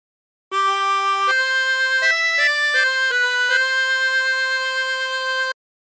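A 20-hole tremolo harmonica plays a short phrase of the hymn What a Friend We Have in Jesus, a sequence of sustained, wavering reedy notes stepping up and down, alone and clear.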